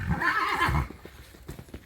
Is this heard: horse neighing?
yes